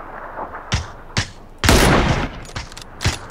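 Gunfire in the battle royale video game PUBG, several separate sharp shots followed by a longer burst of rapid fire and more single shots, fairly close and loud.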